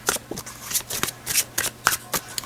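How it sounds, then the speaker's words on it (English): Sacred soulmate tarot cards being shuffled by hand, a quick run of crisp riffling snaps and papery flutters in steady bursts, close and alone with no talking. "I'm going to pull some sacred soulmate cards."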